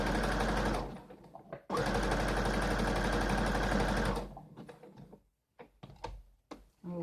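A sewing machine runs a straight stitch on a T-shirt in two steady, whirring stretches, a short one and then a longer one of about two and a half seconds, followed by scattered clicks and taps as the fabric is handled.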